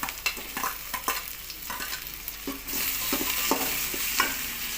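Onions and tomatoes sautéing in a pan for chicken gravy, with a close sizzle and frequent rhythmic scraping and stirring strokes, the frying growing louder and denser midway.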